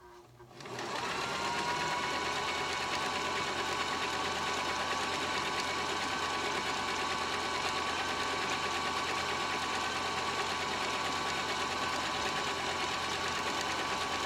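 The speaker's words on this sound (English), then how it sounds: "I'm going to just put my foot to the pedal." A vintage Janome New Home DX 2015 sewing machine starts up within a second and stitches a zigzag, a steady, close mechanical whir and hum that runs evenly to the end.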